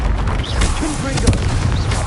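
Confringo fire spell explosions from Hogwarts Legacy, a burst of booming blasts with crackling impacts across two seconds, loud and close, under a shouted voice and game effects.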